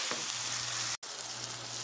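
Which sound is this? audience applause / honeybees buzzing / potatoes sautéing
potatoes sautéing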